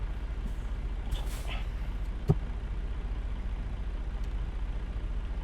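Truck air brakes in American Truck Simulator release a brief hiss over a steady low engine drone, followed by one sharp knock.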